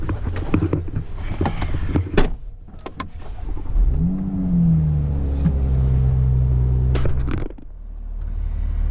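Toyota Supra pulling away on a short drive, a few door and cabin clunks followed by a deep engine rumble that rises as it accelerates, close from inside the car, then eases off.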